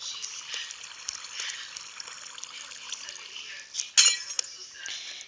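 Water placed in Minecraft trickles and flows with a soft, continuous liquid babble, with a brighter splashy burst near the end, all fairly faint and quiet.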